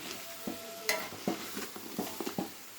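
A big spoon stirs a pot of country chicken curry, giving a series of soft scraping and clacking strokes at an uneven rhythm, close by, over a faint sizzle, with no voices.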